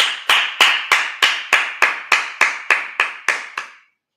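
A church congregation claps about a dozen sharp, evenly spaced hand claps at a steady rhythm, loud and close, stopping abruptly after roughly three and a half seconds.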